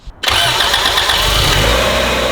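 A Honda CRX with a swapped B18 engine cranks briefly, catches with a roar, and settles into a loud, steady idle close by.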